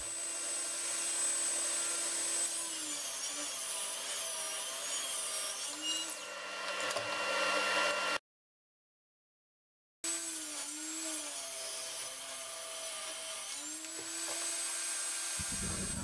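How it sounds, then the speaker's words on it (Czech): A circular saw whines steadily through wood for a large garden bench, pitch dipping as it bites in, cutting in several passes by raising the blade; the sound cuts out briefly, then the sawing resumes. "jsem vedl řez na několikrát postupným zvedáním kotouče"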